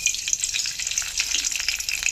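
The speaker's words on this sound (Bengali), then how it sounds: "কড়াইতে পরিমাণ মতো তেল দিয়ে দিলাম, গরম হয়ে গেছে। এবার ফোড়নে দিয়ে দেব সর্ষা, কালো সর্ষা 1/2 চামচ," Half a spoon of black mustard seeds tempering in a wok of hot oil give a steady, close sizzle with fine crackling, with no voices.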